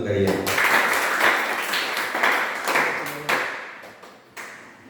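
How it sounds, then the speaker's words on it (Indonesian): SMK vocational students at a school orientation session clapping together, a loud burst of applause near at hand with rhythmic surges that tapers over a few seconds, with some voices mixed in. "Tepuk tangan untuk kalian."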